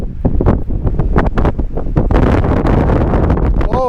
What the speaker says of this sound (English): Oh, and it's windy.